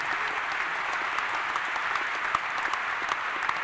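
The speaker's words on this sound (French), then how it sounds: "on peut l'applaudir parce que ça ne va pas être facile pour lui" An audience at a French conference event applauds steadily, a dense, even patter of many hands clapping throughout with no talk over it.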